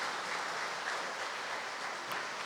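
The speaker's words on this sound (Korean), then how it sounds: "다 같이 박수로 환영하겠습니다." A church congregation applauds to welcome a newcomer during a service, a soft, continuous wash of clapping heard from a distance.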